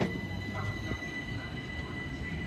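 A London Overground train for London Euston at Watford Junction station gives a faint, steady rumble with rail noise and a thin high whine, heard from a short distance without talk.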